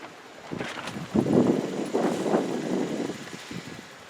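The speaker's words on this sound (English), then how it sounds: "on this super windy day" Gusty wind buffets a microphone outdoors on a very windy day beside an old riding mower, giving low, uneven rumbling bursts that rise and fade over a few seconds.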